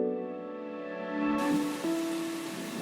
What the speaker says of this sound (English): Just before we could get enough glance of this place, it started to rain.